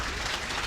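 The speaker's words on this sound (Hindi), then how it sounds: "मैं चाहता हूँ इन दोनों के लिए जरा एक बार आप जोरदार तालियां बजा दीजिए।" A brief burst of crowd applause from a seated audience, dense and continuous clapping heard for under a second.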